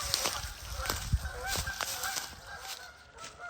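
Geese honk repeatedly in short, overlapping calls against steady outdoor wind noise, fairly close and moderately loud.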